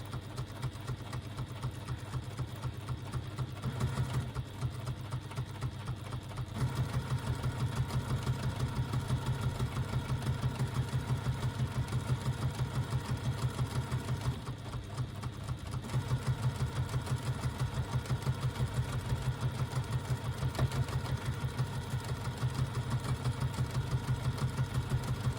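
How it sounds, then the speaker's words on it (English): A sewing machine stitching a leather practice strap for a Halo strap, running in a steady rapid mechanical whir that continues throughout, briefly pausing and slightly changing pace, with no talk. "cut yourself a little practice strap and just practice stitching along it to get your stitching nice and straight"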